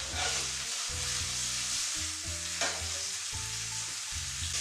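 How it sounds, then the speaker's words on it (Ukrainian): Pork belly sizzles loudly and steadily in a hot pan with garlic, a bright crackling hiss interrupted by a couple of sharper spits. "Сковорідку прикрию кришкою, щоб не шкварчало."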